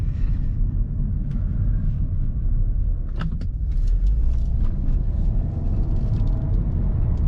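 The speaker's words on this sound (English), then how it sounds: "Let's let the Audi go over the worst road in Merrimack." 2014 Audi A5 2.0T Premium Plus with 100k miles driving over a rough, bumpy road in Merrimack, a steady low cabin rumble with a few sharp knocks and thumps from the suspension hitting bumps.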